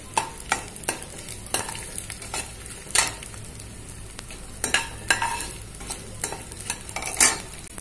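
Edible gum (gond) roasting in a pan, with a steady soft sizzle under repeated sharp scrapes and clinks of a spoon stirring against the metal, close and without voices.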